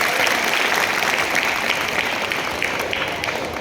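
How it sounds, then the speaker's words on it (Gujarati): Loud, steady applause from a school audience at a Republic Day function, filling the whole stretch with dense clapping that tapers only slightly toward the end, honoring a student's recitation of Gita verses. "એની માટે જોરદાર તાળીઓ થઈ જાય"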